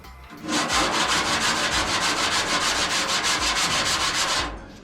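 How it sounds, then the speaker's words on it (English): A 1949 Jeep Willys body panel is hand-sanded with 80 grit sandpaper, a close, steady back-and-forth rasping in quick even strokes lasting about four seconds before stopping. "Now we're gonna sand it down."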